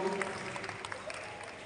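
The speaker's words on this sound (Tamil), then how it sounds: "நல்ல ஒரு பலத்தை கைத்தட்டி கொடுத்துருங்க." Audience applause at a Tamil stage event, a steady wash of clapping from a crowd that holds evenly through the moment, moderately loud with no talk over it.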